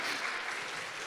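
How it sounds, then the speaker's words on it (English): Applause from an audience for fantastic designers at a design event, a steady dense wash of clapping heard briefly and at moderate distance. "One more round of applause for our fantastic designers."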